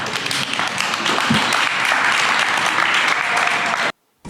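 An audience bursts into dense, loud applause, many hands clapping in a steady wash that holds for about four seconds before cutting off abruptly.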